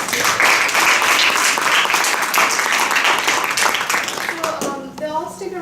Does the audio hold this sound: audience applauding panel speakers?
yes